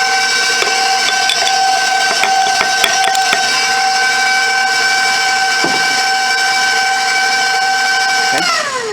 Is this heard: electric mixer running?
yes